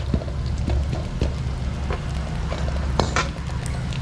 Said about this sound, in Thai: ตั้งกระทะนะครับ ผัดพริกแกงนะครับ